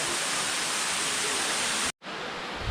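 A waterfall in a sandstone canyon at Starved Rock rushes in a loud, steady broadband roar, cut off by a brief break before resuming.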